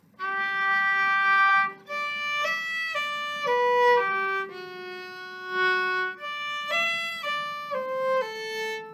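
A solo violin plays a short melodic passage of connected notes from de Beriot's Air Varie, moderately quiet and clear, with no voices.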